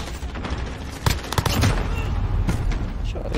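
Bursts of video game gunfire with shotgun blasts and scattered shots, fairly loud over constant background game noise and some talk.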